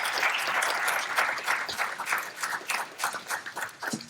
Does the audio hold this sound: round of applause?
yes